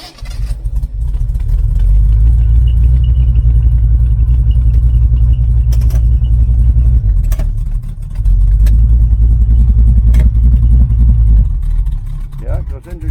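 A 1980 Camaro Z28 junkyard find runs in reverse gear, its loud, steady low engine rumble droning close by with a brief dip midway and a few faint clicks and knocks over the top.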